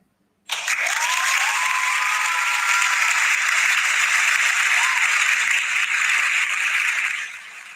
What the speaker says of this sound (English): Y'all clap it up, man.